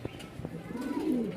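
A pair of chocolate dobaj pigeons, with a low, soft cooing from one bird rolling out near the close after a few faint taps.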